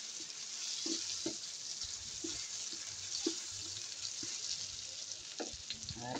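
Pork binagoongan aromatics sauté in a pan with the rendered pork fat, giving a steady hiss of frying with scattered soft clicks of stirring, moderately close and without talk.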